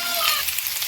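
Fish sizzles in hot oil in a pan, a short close crackling fry with no voices.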